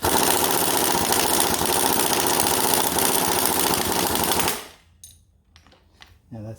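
A power tool on its lightest setting snugs bolts on a John Deere Z920M mower main assembly during a hydrostatic installation, giving a loud, rapid, continuous rattling hammer up close that stops abruptly, followed by quiet handling noises.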